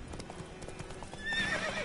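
A horse trots in The Witcher 3 video game with quick, rhythmic clip-clop hoofbeats, close and clear, ending with a short whinny.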